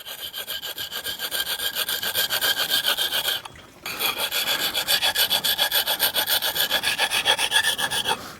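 A blade is sharpened on a sharpening stone in the field, giving a steady rhythmic rasping rub of repeated close strokes, with a brief pause partway through before the strokes resume.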